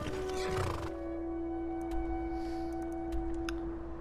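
A wild pale mare in the video game Skyrim lets out a loud neigh at the start, followed by quieter game ambience with faint hoof clops and soft ticking sounds.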